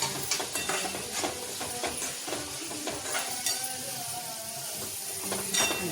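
Tomatoes for tomato fry sautéed in a pan, with repeated spatula scrapes and light clinks over a faint sizzle, close but fairly quiet and with no talking.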